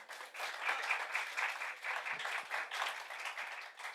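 An audience claps for a guest joining a coach's show, a dense steady patter of many hands at moderate distance, fading briefly and swelling again, with no talk over it.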